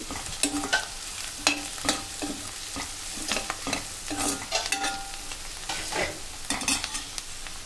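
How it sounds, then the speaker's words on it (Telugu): Curry leaves and turmeric are stirred through frying onions in a pan, with repeated spoon scrapes and clinks over a soft, steady sizzle, close and moderately quiet, with no one talking. "ఇందులో హాఫ్ స్పూన్ పసుపు వేసుకోండి. వేసుకొని బాగా కలుపుకోండి."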